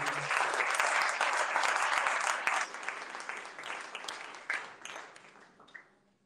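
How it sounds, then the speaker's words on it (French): A church congregation claps together for several seconds, loud and dense at first, then thinning out into scattered claps that fade away. "Nous applaudissons pour le Seigneur"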